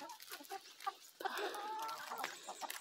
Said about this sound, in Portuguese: Essa aqui são as franguinhas novinhas de postura.